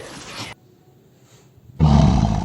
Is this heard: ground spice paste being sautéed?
no